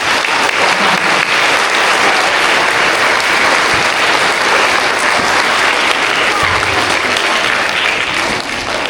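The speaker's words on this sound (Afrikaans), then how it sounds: "Ons klap vir al hierdie maats." Sustained, dense applause from a school hall assembly for Grade 1 to 3 prize winners, many small hands clapping steadily and loudly for about nine seconds before easing slightly at the end.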